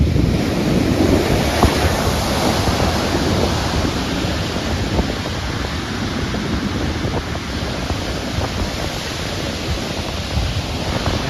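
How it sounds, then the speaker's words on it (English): Heavy ocean surf crashes continuously against an old shipwreck lying at the water's edge on an African coast, a loud, steady roar of breaking waves with wind buffeting the microphone throughout. "the waves are crashing on it"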